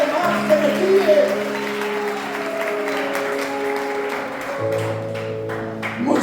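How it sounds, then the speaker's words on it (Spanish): A church congregation clapping at a Sunday service, soft and ongoing beneath sustained organ or keyboard chords that shift partway through, with a voice speaking over the music. "denle un fuerte aplauso a la gloria del Señor"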